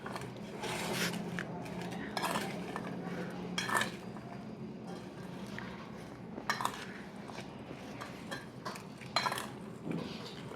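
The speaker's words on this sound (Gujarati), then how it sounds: "હવે એની અંદર આપણે સૌપ્રથમ આ નમક નાખી દઈશું અને આમ ધીમે ધીમે એને હલાવી નાખશું" Ginger pieces stirred with salt in a metal vessel while making ginger pickle, heard as scraping and clinking of a utensil against the container in intermittent bursts, with a few sharper knocks, close and at moderate level.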